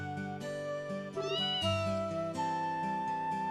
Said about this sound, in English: Aw, little kitty noises.